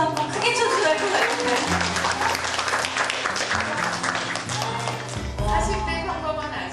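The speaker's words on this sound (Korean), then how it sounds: "여러분 박수 한번 크게 쳐주셔야 돼요" An audience claps loudly and continuously through the whole stretch, a dense wash of applause with voices and other sound mixed in underneath.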